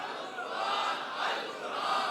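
A large crowd at a religious conference in Gujranwala chants a slogan back in unison, a loud, reverberant roar of many voices swelling and falling in rhythmic waves.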